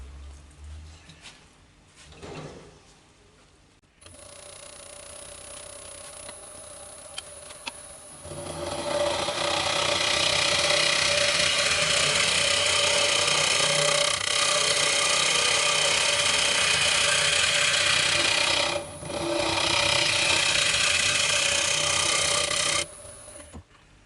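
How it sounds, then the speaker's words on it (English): A wood lathe spins a bowl blank while a tool skims its surface smooth, a steady whirring scrape that begins softly, swells to a loud sustained hiss from about eight seconds, and briefly dips near the end. "I'm just going to skim this surface nice and smooth."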